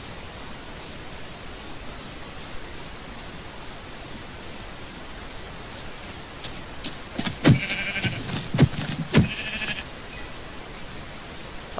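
Sheep bleat in the Minecraft survival game on Xbox, with a few short, wavering bleats clustered midway over a faint, steady ticking background. No one speaks.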